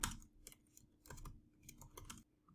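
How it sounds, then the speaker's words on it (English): Fingers type on a computer keyboard in quick, irregular bursts of close key clicks with short pauses, quiet overall and with no talking. "I'm going to highlight this text and start typing or pasting."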